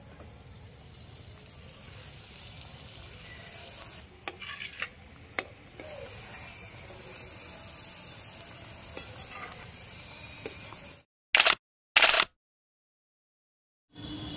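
Palm fritter pithas fry in hot oil, a steady close sizzle and bubbling with occasional stirring clinks, continuing for about ten seconds before cutting to silence with brief bursts of other sound.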